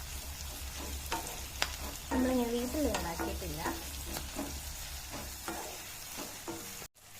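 Homemade chilli chicken sautés in a pan with a gentle sizzle while a spoon stirs and scrapes in repeated strokes, and a voice speaks briefly over it.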